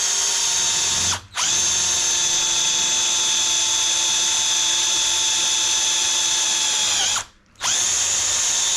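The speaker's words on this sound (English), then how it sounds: "We're going to drill this pilot hole. We're going to drill all the way down into the ball." A power drill bores a pilot hole down into the rusty ball of a Massey Ferguson MF40 tractor backhoe's tie-rod end, a loud, steady high whine that stops briefly twice before running on.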